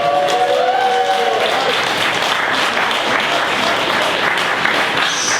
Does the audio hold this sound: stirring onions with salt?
no